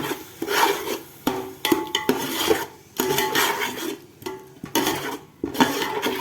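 Quail biryani masala with added yogurt is stirred in a pot, giving repeated scraping and rubbing strokes of a spoon against metal, close and fairly loud with short pauses between strokes.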